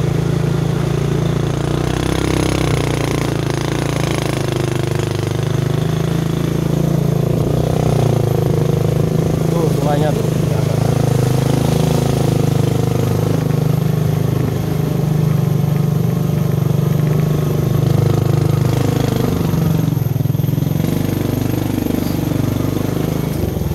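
A motorcycle engine drones steadily while riding uphill through a Bali village, a constant mid-low hum close to the rider, with wind rumble and no speech throughout.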